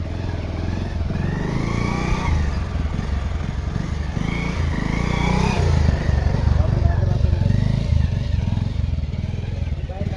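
A motorcycle ridden on a bumpy obstacle course in a timed village challenge hums and rumbles steadily throughout, its engine loud and close with clattering, while people talk over it.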